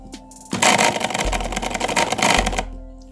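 Braun MQ-500 hand blender under repair, its motor switched on for about two seconds with a loud, buzzing, rattling whir, close to the listener, then cutting off.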